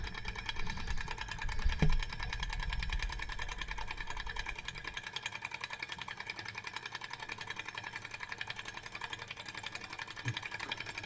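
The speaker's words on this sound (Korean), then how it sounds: "그래서 요거는 이제 스털링 엔진이라고 부르는데" A small Stirling engine runs with a steady, rapid mechanical ticking and whirring, close by, with a brief low thump near the start.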